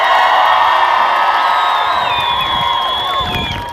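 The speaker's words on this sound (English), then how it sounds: "Just want to give another big cheer for all the Manchester Palestinians out today" A crowd at a Palestine protest in Manchester cheers and whoops loudly and continuously, voices layered and close, fading slightly toward the end.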